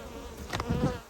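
Honeybees bearding on the outside of a hot hive make a steady, close insect buzz and hum, swelling slightly for about a second with no talking.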